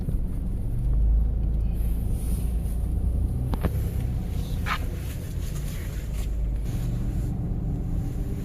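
A car drives along a road, its cabin filled with a steady low rumble of engine and tyre noise, broken by a few brief sharp clicks, and no one speaking.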